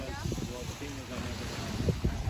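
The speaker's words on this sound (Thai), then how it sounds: "ลมพัดเย็นสบาย" Steady wind gusting over a microphone at a beach along the sea at Jomtien near Pattaya in the evening, a constant breathy rush with someone talking over it.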